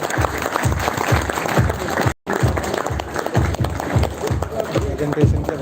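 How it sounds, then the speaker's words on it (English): Loud, dense audience applause at a live celebration of a milestone, steady for about five seconds with a brief dropout midway and a rhythmic low thumping running underneath throughout. "Guys, please have a huge round of applause for them."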